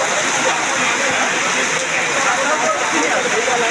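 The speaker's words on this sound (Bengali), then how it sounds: "অনেক বৃষ্টি হচ্ছে, কিন্তু অনেক বৃষ্টি" Heavy rain pours down steadily in Mirpur, Kushtia, a dense, continuous hiss of water close by with no let-up throughout.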